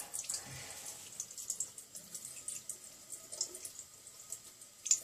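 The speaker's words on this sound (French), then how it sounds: "je rince mes doigts" Tap water runs steadily into a sink while fingers are rinsed under it, a soft continuous hiss with faint splashes and drips, quiet and close, with no voices.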